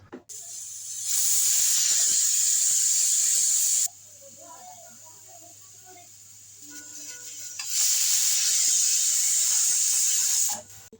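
A pressure cooker boiling taro leaves with a little water releases two long, loud steam hisses separated by a quieter simmering stretch with faint bubbling.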